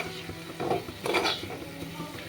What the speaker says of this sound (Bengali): ভেজে রাখা আলুর পিস দিয়ে এবারও কিন্তু আমি আরেকটুখানি ভালো করে নাড়িয়ে নিচ্ছি